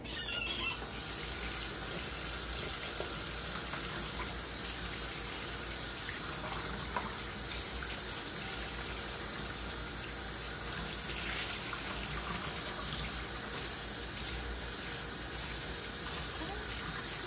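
Tap water runs steadily into a kitchen sink as it is rinsed out, a constant soft gushing hiss with faint clinks, heard nearby and fairly quiet.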